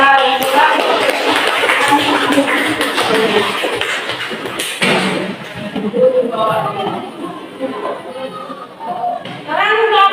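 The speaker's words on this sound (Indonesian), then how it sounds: "Mari tepuk tangan bersama kelompok 3" A classroom group claps together for a student team that has just presented, a dense burst of applause for about five seconds, then fading into scattered claps, chuckles and chatter as voices talk.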